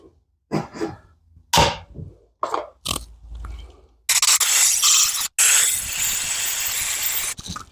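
A few short clicks and bursts, then a loud sustained hiss of brake cleaner sprayed onto a bicycle chain for about three seconds, briefly interrupted once, close to the microphone.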